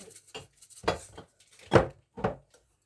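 Liver being stirred and roasted in a pan, with a few separate scraping and clattering strokes of a utensil against the pan, close and moderately loud, with short pauses between them.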